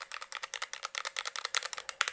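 Keys on a mechanical programmable macropad click in a quick, even run of about twenty sharp, bright taps, close and loud, with no one speaking.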